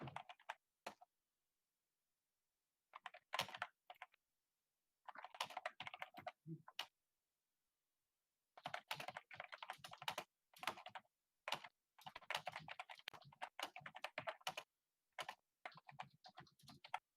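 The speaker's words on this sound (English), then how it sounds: "I'm just typing in." Computer keyboard typing in bursts of rapid clicks separated by pauses, close and clear with no talk over it.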